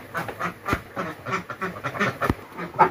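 Ducks raised by an elderly rural villager quack repeatedly in a close, busy flock, with overlapping calls arriving in irregular bursts throughout.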